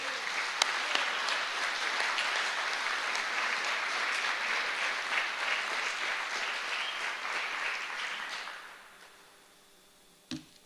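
An audience at a Ford ASSET technician training program open house at Parkland College claps steadily for about nine seconds, a full, even applause that fades out, followed by a couple of faint knocks near the end.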